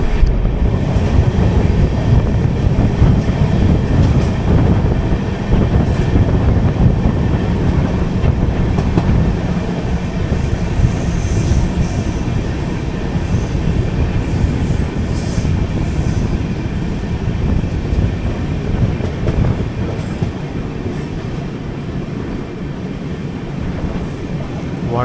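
A train with AC rake coaches rolls past near Borivali, Mumbai, a steady loud roar of wheels with clickety-clack and occasional squeals running unbroken throughout.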